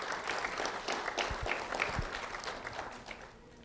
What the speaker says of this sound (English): a round of applause for Nicolas da Silva, please.